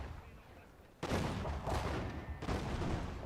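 Ship cannons firing in a Total War naval battle during a Dutch invasion of Korea, three heavy booming volleys about a second apart that break a quieter rumbling background, each ringing out before the next.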